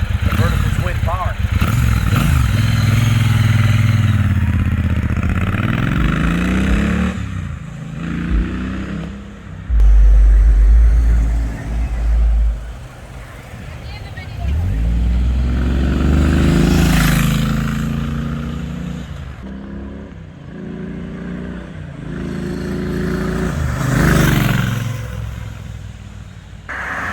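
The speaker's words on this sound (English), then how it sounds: "It's got a real healthy rumble to it. 1200 cc's, the vertical twin power." A 2022 Triumph Bonneville Speedmaster 1200 with a 1200 cc vertical twin engine and custom exhaust rumbles loudly and steadily, rising and falling with revs across the whole stretch, with talk over it at times.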